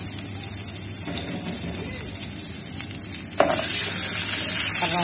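Cow feet sizzle and fry while browning in a pan, a loud dense crackling hiss that swells further partway through as more heat or liquid hits the pan, with faint background stirring.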